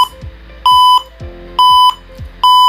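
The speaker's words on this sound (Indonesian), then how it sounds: "Buzzer akan berbunyi sebagai peringatan panas." Electronic buzzer on a small student LED project sounding an overheating warning once the temperature passes 32 degrees: three loud, steady beeps of about a third of a second each, evenly spaced, with no talk over them.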